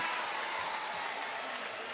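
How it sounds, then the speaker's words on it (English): Home crowd noise at a women's basketball championship game, a dense, steady roar of cheering and applause filling the arena without a break, with faint voices mixed in. "this home court advantage or home crowd has really gotten louder and louder"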